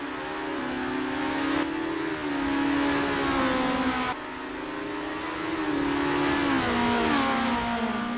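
A Formula race car from the game Assetto Corsa revs hard, its engine pitch climbing steeply through the gears, with sharp drops at each shift and a sustained loud whine between them.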